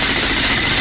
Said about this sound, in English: You'd think a jackhammer would sound like this,